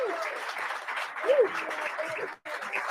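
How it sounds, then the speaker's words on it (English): Audience applause at a town select board candidates night, moderately loud and steady for a few seconds with faint voices over it, breaking off briefly near the end before picking up again. "And you can applaud now if you want to."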